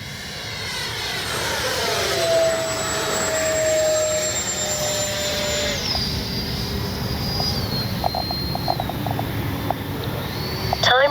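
Freewing Banshee 64mm electric ducted-fan RC jet flying overhead, a steady loud whine with pitch sweeping and dropping as it passes, continuous throughout with no talking.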